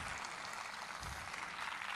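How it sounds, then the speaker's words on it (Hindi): Men at a church meeting applauding a women's group: continuous, even clapping from a crowd, steady and fairly soft, heard on its own without voices. "ये सारी तालियां आपके लिए।"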